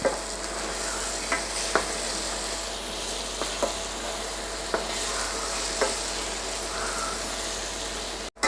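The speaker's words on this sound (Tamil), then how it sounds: "இதையும் நல்லா அதோடு சேர்த்து வதக்கிக்கணும்" Half-cooked potatoes and crushed garlic sauté in a pan for potato rice, a steady low sizzle punctuated by about eight sharp spoon clacks against the pan, close and unaccompanied by voices.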